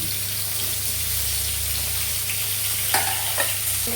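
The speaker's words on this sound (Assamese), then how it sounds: "বিলাহীখিনিও ভাজি ল'ম।" Tomatoes frying in a pan with whole spices, a steady close sizzle with stirring scrapes and a couple of sharper clinks toward the end, with no talking.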